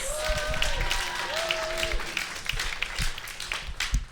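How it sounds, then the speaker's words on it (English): An audience at a campus comedy show applauds and cheers steadily, with dense clapping spread across the whole stretch and occasional whoops rising above it. "Give yourselves a round of applause."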